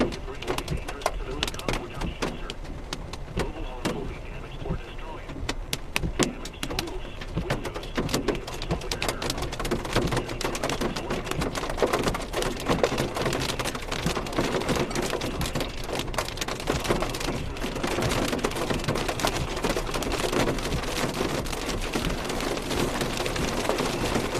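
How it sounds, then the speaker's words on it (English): Dime-sized hail pelts down during a tornado chase, a dense, continuous rattle of countless sharp impacts on the vehicle, loud and unbroken throughout, with a voice speaking under the clatter. "We're getting dime-sized hail now."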